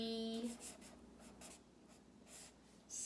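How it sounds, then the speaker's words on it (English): Pen or marker scratching across a paper page in soft, intermittent strokes, close and fairly quiet, with a voice humming or speaking briefly at the start. "I'm going to try to write so you can see me"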